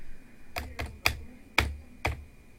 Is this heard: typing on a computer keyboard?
yes